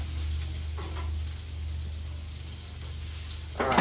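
Onions sizzle softly in a pan while being stirred, a low steady fry under a constant hum, ending in a brief louder burst near the end.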